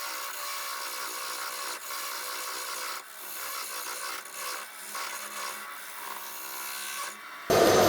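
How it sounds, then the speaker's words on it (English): A lathe parting tool cuts a tenon into a spinning blank of mahonia wood, giving a steady, close scraping hiss that runs almost unbroken for several seconds before a sharper, louder burst at the end. "I'm going to come in and make a tenon now with a parting tool."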